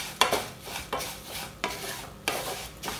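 Semiya vermicelli for Kerala payasam fries in a pan while a spoon stirs it in steady, evenly spaced scrapes about once every second, each stroke sharp at the start and trailing into a soft sizzle.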